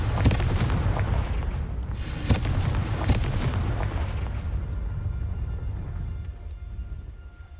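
Confringo blasting spell from Harry Potter bursting in a loud explosion, with several sharp blasts in the first few seconds followed by a long rumbling decay that fades toward the end.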